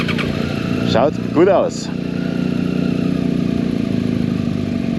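A motorcycle engine idles steadily and close by with a continuous low chugging rumble, while someone speaks briefly over it.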